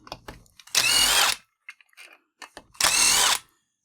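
A power tool whirs in two short, loud bursts while backing out the ignition coil screws on a Husqvarna 435 chainsaw, with small clicks and handling noises between the bursts.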